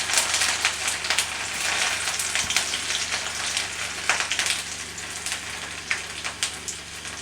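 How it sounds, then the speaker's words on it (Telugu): Onions and ginger pieces sizzle and crackle steadily in a pan over medium flame, a continuous loud frying hiss with small pops throughout. "కాబట్టి దాంట్లో మనం ఉల్లిపాయలు వేసుకుంటున్నాం."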